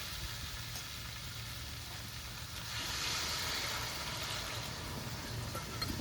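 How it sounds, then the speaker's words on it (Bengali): Water poured into a pan of sizzling potato and pea ghugni masala, a faint broad hiss and sizzle that swells partway through over a low steady background hum, no voices. "মটর আলু এখন জল দিয়ে দেবো"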